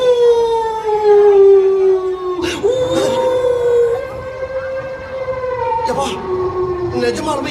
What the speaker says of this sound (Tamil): தூரத்துல ஒரு நாய்